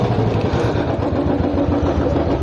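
Royal Enfield Classic 350 motorcycle with a wiring fault after a Ladakh ride, its engine running at a steady low idle, a loud close thumping rumble with no talk over it.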